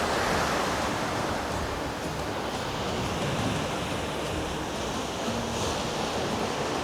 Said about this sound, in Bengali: আপনাদেরকে শোনাই সমুদ্রের উত্তাল গর্জন কেমন হয়